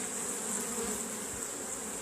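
Honey bees buzzing at a hive, a steady, dense hum heard alone without pause.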